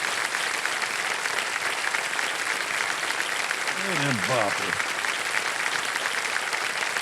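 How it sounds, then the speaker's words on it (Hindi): Sustained, loud studio audience applause for contestant Sarita on Kaun Banega Crorepati, a constant dense clatter of clapping, with a man's brief exclamation briefly heard over it midway. "बधाई बधाई बधाई, तालियां बज जाएं।"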